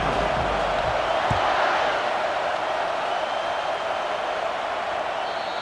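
Dense, steady stadium crowd roar at a college football game in EA Sports College Football, Mississippi State at UCLA, holding loud and continuous with a brief thump early on.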